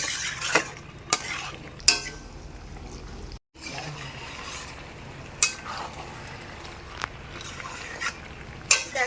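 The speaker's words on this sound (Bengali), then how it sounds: "এবার লবণ দিয়ে আমি কিছুক্ষণ নাড়ব" Chicken seasoned with salt is stirred in a pan for a village-style dry chicken kosha, a steady bed of frying sizzle broken by sharp scrapes and clinks of the spoon against the pan at irregular intervals.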